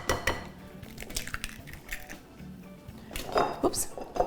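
Eggs cracked one after another into a bowl during lemon ricotta batter prep, brief sharp cracks and clinks against the rim close by, scattered among soft kitchen handling noises and a voice talking.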